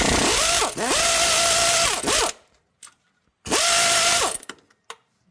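A ratchet and power tool removing a transmission bolt on a 2000 Ford F-250 truck: two loud, sustained whirring bursts with a rising and falling whine, separated by a quiet pause with small clicks.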